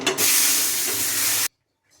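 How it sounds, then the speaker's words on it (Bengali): Loud steady hissing and bubbling of hog plum chutney boiling hard in a kadai, filling about a second and a half, then cutting off to near silence. "চাটনিটা ফুটছে"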